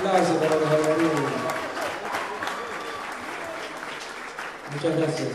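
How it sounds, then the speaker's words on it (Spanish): Audience applause for student performers at a folk peña, a steady dense clapping that fills the whole stretch, with music and voices heard faintly at the start and end. "Aplauso para los alumnos."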